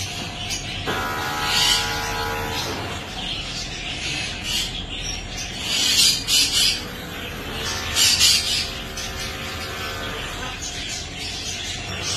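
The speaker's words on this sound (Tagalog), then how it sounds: "Ang daming lovebirds." Flock of lovebirds squawking in shrill, overlapping calls, with louder bursts near the middle and end over a busy background.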